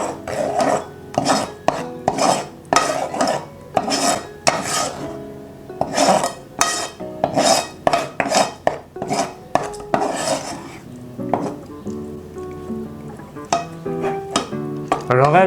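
A utensil stirs an egg into batter for Vietnamese bánh tôm shrimp fritters, with steady rhythmic clinks and scrapes against the bowl close by, slowing toward the end, with occasional talk.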